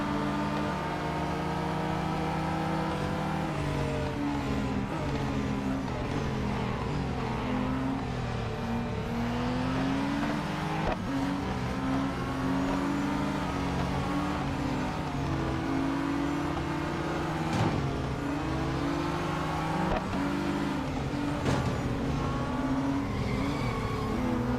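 A race car engine in the Real Racing 3 video game, revving and changing pitch continuously through gear shifts, loud and sustained throughout without talk.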